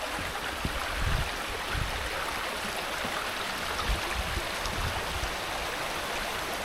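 Water from the dams above Milton of Campsie flows along a stream past a small bridge made of two telegraph poles, producing a steady, close broadband rushing and splashing that runs without a break.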